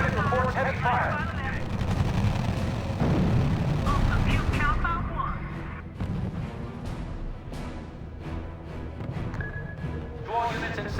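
Heavy gunfire and artillery from the World War II strategy game R.U.S.E., with dense booms and rattling shots layered over a rumbling battle bed, while radio-style voices talk throughout.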